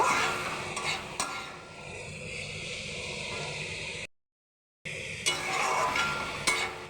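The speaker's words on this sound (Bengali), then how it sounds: "দেখো খুব ভালো করে আমি মশলার সঙ্গে বাঁধাকপিটা কষিয়ে নিচ্ছি" Cabbage stir-fries with spices in a pan, giving a continuous close sizzle with spatula scrapes and clinks against the metal, interrupted by a short silent gap.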